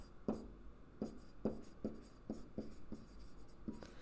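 Pen or marker strokes tap and scratch on a writing surface as a transformation rule is written out for a math lesson, about eight quiet, evenly spaced strokes, close but faint.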